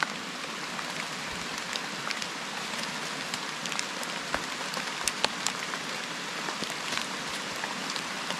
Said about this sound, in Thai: ตอนนี้ก็ฝนตกนะเจ้า